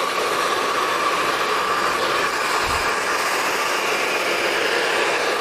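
Hair dryer blowing steadily on medium-length hair during styling, a loud continuous broadband whoosh with no pauses, alone throughout.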